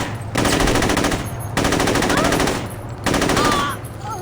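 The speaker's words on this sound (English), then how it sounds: "AK-47, I mean, it's an AK." AK-47 assault rifle in the video game Saints Row firing three sustained automatic bursts, each over a second long with brief pauses between, loud and close, a faint voice briefly heard near the end.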